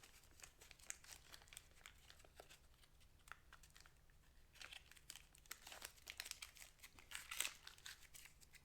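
Tape crinkles and tears as it is pulled from the roll and pressed around a Ford Focus RS brake caliper, quiet close-up handling with a few sharper rips near the end.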